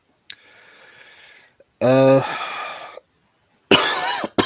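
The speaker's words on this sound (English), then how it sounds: "Oh, this cough's so bad." A harsh, raspy cough bursts out, followed by another strained cough after a pause, close and loud with a breathy sound before.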